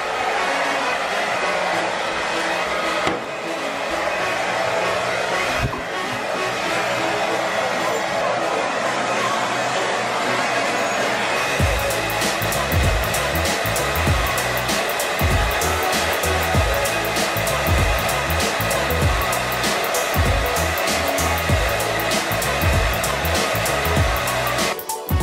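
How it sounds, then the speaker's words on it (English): A hair dryer roars continuously at close range while blow-drying a dog after its bath, the airflow steady and loud throughout, shifting to a harsher, buzzier tone partway through as the dryer moves or changes setting. "Now let's try to blow dry Jumper."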